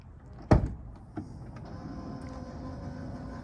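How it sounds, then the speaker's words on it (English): A 2021 Toyota Sienna Hybrid wheelchair van's power sliding door, triggered by key fob, begins opening with a sharp latch clunk, a second softer click, then a steady low motor whir running close by. "Sliding door will open, the vehicle will kneel down, and ramp will deploy out."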